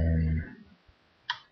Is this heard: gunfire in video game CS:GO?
no